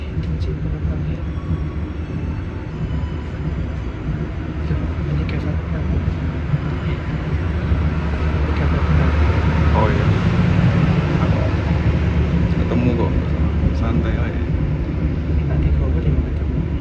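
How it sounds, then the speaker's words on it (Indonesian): A Motis passenger train hauled by a locomotive pulls out of Madiun station in Indonesia, a deep continuous rumble and rolling clatter that slowly grows louder and fuller as it gets underway. "baru aja kereta Motis yang aku naiki berangkat dari stasiun Madiun"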